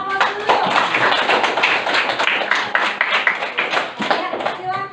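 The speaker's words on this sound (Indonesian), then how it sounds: "Oke, kita beri aplaus dulu." A classroom applauds after a group presentation: a few seconds of steady, fairly close hand clapping from a group of students, with some talk mixed in.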